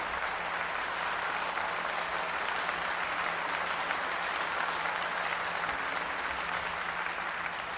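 An audience claps steadily at an honouring ceremony, a continuous even wash of applause, moderately loud and sustained with no voices over it.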